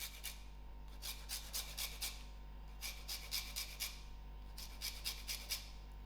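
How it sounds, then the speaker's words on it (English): A lemon is zested over a bowl of butter and sugar for a Madeira cake, giving a run of soft, close, rhythmic rasping strokes under a steady low hum. "I will also zest my lemon into my butter and sugar."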